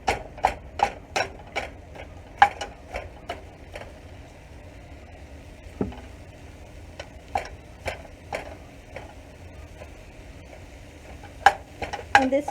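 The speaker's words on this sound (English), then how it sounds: "So I'm just going to chop this up into a nice crumble." Ground hamburger meat being chopped into crumble in a hot pan, a series of sharp spatula taps and scrapes in uneven bursts over a faint quiet sizzle, loud and close.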